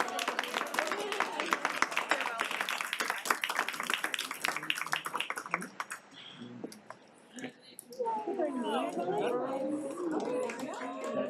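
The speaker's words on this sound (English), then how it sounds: "one last big round of applause for all" A school audience at Adlai E. Stevenson High School claps and applauds in a dense, steady burst for about six seconds, with voices talking over it, before the clapping fades and chatter continues.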